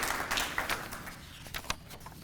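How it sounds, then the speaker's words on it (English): Applause at a practical nursing program commencement ceremony: scattered, fading claps from a standing audience, fairly distant and quiet, thinning out into individual claps toward the end. "Please stand and give her a round of applause"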